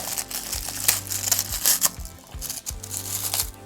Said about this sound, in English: let's unwrap this Gibson